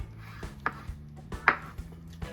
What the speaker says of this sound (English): We'll cut a little slice of that.